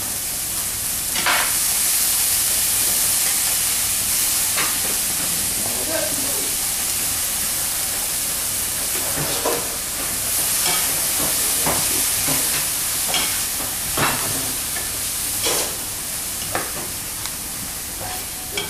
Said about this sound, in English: We actually want to sweat these, just like with onions, because they're in the onion family.